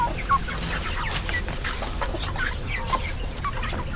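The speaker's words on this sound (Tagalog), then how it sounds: "Yung mga manok ko na to" Chickens cluck in short, scattered bursts over a steady outdoor background in Taiwan, several birds calling at moderate distance.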